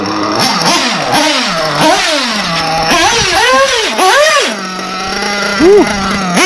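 A ProTek RC Samurai RM .21 nitro engine during break-in, loud and close, buzzing at a steady idle between repeated sharp revs that rise and fall in pitch, with a final short blip.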